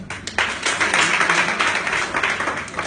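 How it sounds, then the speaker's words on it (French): An audience at a gathering on African women and leadership applauds, a full steady round of many hands clapping that starts after a brief moment and continues throughout. "Je voulais qu'on l'applaudisse."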